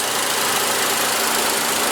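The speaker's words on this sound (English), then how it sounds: "But it's a very punchy engine and it's very zippy." A 2015 Audi A3 with a 1.8 L turbo four-cylinder engine runs with a steady, even mechanical hum and whir, held close and continuous for the whole stretch, no voices.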